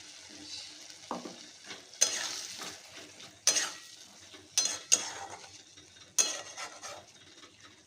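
Aloo posto with fried potatoes, onion, tomato and poppy seeds is stirred in a pan, bringing a soft sizzle under about six sharp spoon scrapes and clanks at irregular intervals, close by and with no talk.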